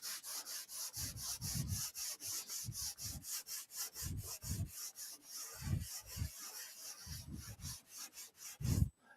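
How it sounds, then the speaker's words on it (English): Drywall joint compound on a wall patch being sanded by hand, steady back-and-forth rasping strokes in a quick repeated rhythm, close and fairly loud, with no talking. "So we'll sand this a little bit more."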